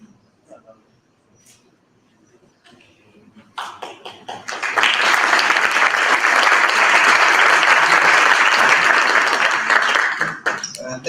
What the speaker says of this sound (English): we'd like to show our recognition by giving you a clap